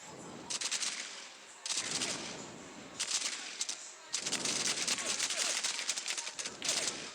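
An MG42 machine gun firing in the video game War Ops, several long rapid bursts of automatic fire with short pauses between them, loud and rattling.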